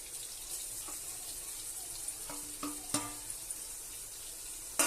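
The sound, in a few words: mixing onion and mutton in a cooking pot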